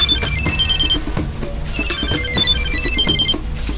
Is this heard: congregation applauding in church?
no